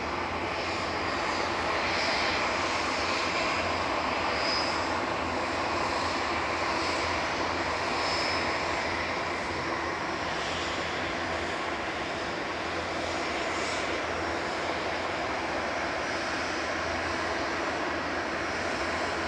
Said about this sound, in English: Third SAS of the evening coming in from Oslo, flight 4607. LN RGL operating this, an A320neo.